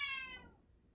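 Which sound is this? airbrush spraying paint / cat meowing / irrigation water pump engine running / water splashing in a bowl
cat meowing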